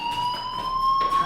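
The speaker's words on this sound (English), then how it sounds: "do you hear that fire alarm?" A school fire alarm in the video game Life is Strange rings steadily, a loud continuous electronic tone with pulsing buzzy bursts, alone with no voices.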